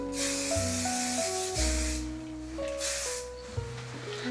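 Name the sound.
hair spray being sprayed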